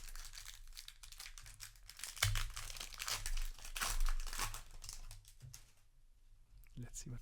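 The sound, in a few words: tearing open a Magic the Gathering booster pack wrapper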